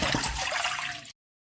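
Water poured into an open cooking pot, a steady splashing gush close by that runs for about a second and then stops abruptly.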